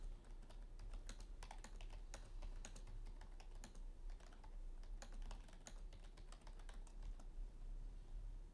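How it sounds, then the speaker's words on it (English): Steady typing on a computer keyboard entering a question for a legal AI assistant, rapid irregular key clicks close to the microphone over low background hum, alone without speech. "you will type in a prompt"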